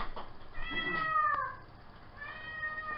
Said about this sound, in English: that cat is so loud